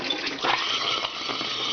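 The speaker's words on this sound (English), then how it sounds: "That was the cold water running there." Cold water from the supply line runs steadily into a new 40-gallon natural gas hot water tank as it fills, a continuous close gushing flow with no talk.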